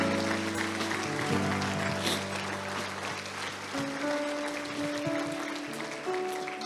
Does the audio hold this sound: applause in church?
yes